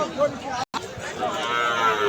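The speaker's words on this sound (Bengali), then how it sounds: "খুব সুন্দর একটি দেশি গাই" A native desi dairy cow, a cow with her calf, moos loudly and close by in a long drawn-out low call that is broken by a brief silent gap.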